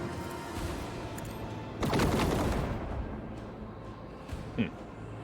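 Starship guns fire at an enemy vessel in the Rogue Trader video game, with a low rumbling barrage that swells into a loud burst and then fades, followed later by one sharp impact.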